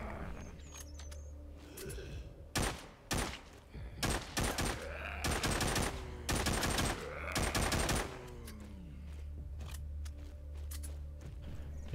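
Bursts of gunfire from a weapon in the zombie survival game Walking Zombie 2, several loud rapid volleys of shots spread across the clip over a low steady game background hum.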